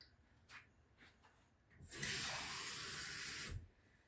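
Water pours steadily into a measuring cup for about a second and a half, a loud rushing splash that stops abruptly, with faint clinks before it.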